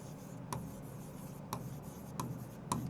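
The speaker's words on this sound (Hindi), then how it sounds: "मैं हेसरू शॉर्ट में डाली हूँ तो यहाँ लिखती है AN मूर्तिराव" A pen writes a name on paper, soft scratchy strokes with four sharper tapping clicks spaced about a second apart, close and faint, with no talking.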